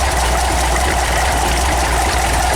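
VW 1800 engine idling roughly, a loud, continuous low rumble with an uneven throb running throughout.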